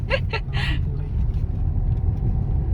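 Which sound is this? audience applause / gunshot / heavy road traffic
heavy road traffic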